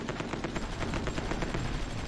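In the strategy game Supreme Ruler Ultimate, units fire at an aircraft in rapid, evenly spaced bursts of gunfire, a dense rattling fusillade at moderate volume that carries on throughout.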